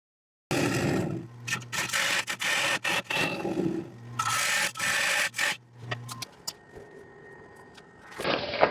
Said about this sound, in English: The gouge is dull again, but it's really apparent going through the lighter sapwood and the darker heartwood